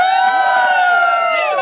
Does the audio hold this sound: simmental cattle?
no